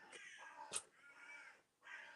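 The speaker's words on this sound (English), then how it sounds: "the crows have something to say about that" Crows cawing outdoors, several harsh caws in an irregular burst, moderately close but faint, one sharp note standing out, with no talking.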